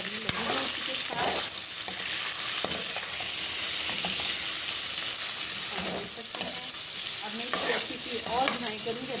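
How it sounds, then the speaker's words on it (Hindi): Ginger and garlic browning in a pan for chicken palak: a steady close sizzle of frying with intermittent scraping stirs of a spoon throughout. "मैंने इसके अंदर अदरक लहसुन ऐड कर दिया है और मैं इसकी ब्राउन करने लगी हूँ इसके साथ"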